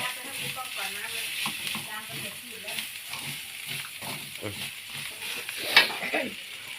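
Eel being stir-fried in a pan, with a steady sizzle and the scrape of stirring throughout, alongside someone talking over the cooking.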